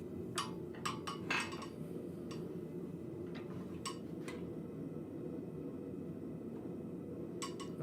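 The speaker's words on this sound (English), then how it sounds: "I'm just going to straighten it up now on the vise, doing it on the corners of the square." Hot steel being straightened on the square corners of a vise at a blacksmith forge, heard as a scattering of sharp metallic clinks and taps, some in quick clusters, over a steady low shop hum.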